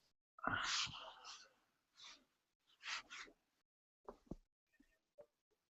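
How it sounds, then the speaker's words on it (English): A sudden loud sneeze bursts out close to the microphone, then trails off into a few softer breathy bursts and faint murmurs against near silence. "that sneeze knocked the whole feed out"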